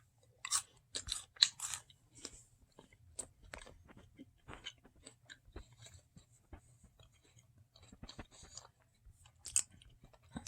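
Close, crisp crunching and chewing of a crunchy hazelnut chocolate candy, with sharp bites early on and softer irregular chewing after, no talking.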